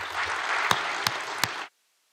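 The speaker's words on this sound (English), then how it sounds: "I would like you to applaud them and thank you for their help." An audience at the Eurographics conference in a lecture amphitheatre gives brief applause, a dense clatter with a few sharper individual claps standing out, stopping abruptly into silence.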